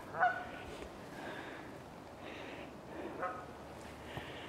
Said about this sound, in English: The geese are liking it.